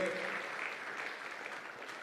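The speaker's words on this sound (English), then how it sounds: "Big round of applause, ladies and gentlemen, to her for hosting us today." An audience applauds the President of Tanzania at a Merck Foundation summit, a brief, fairly faint wash of steady clapping heard at a distance.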